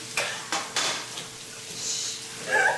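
Metal springform cake pan handled in a home kitchen while making an Oreo cheesecake: several sharp clanks and clicks, a faint scrape, then a brighter metallic rattle near the end, close and fairly quiet.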